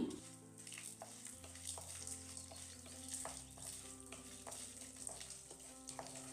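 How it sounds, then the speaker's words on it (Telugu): Chana dal, urad dal, cumin, dried red chilies and green chilies frying in oil, a faint soft crackle with occasional stirring taps and a low musical hum in the background. "హాఫ్ టీ స్పూన్ జీలకర్ర ఎండుమిర్చి పచ్చిమిర్చి వేసుకుని ఫ్రై చేసుకోవాలి"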